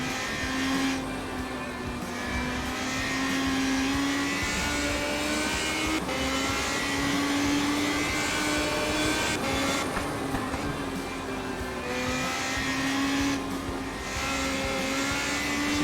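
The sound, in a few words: Radical SR3 RSX race car engine, sim racing game at Mugello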